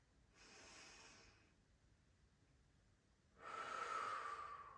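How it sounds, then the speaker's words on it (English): Two slow, deliberate breaths during a prenatal Pilates session, a soft nasal inhale followed after a pause by a louder, airy exhale through the mouth, close and quiet. "inhale through the nose and out through the mouth"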